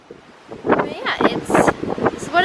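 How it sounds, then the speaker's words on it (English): Gusty wind buffets the microphone outdoors on a ship deck while a person talks over it, the rushing noise rising and falling in short bursts. "I'm going to head outside to show you guys how windy it is"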